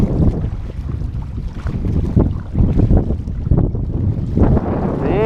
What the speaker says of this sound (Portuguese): Vento.